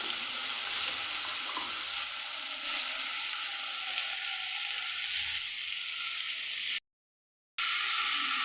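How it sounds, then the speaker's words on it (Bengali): Small chopped pumpkin pieces fry in a hot pan with a steady, loud, dense sizzle that runs without pause, cutting out briefly near the end before resuming. "তারপর এতে দিয়ে দেবো ছোটো ছোটো করে কেটে রাখা কুমড়োর টুকরোগুলো"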